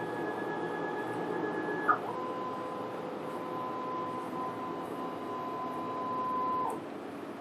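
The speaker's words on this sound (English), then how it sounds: "we print the vertical calibration again to check" A UV printer runs a vertical print head calibration, a soft steady whir with carriage tones that step down in pitch partway through and end with a brief whine, heard alone and fairly faint.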